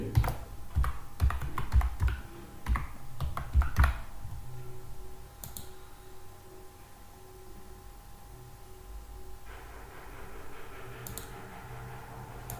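Someone types an email ID on a computer keyboard: a quick run of sharp clicks up close for a few seconds, then quiet room tone with only a couple of isolated taps.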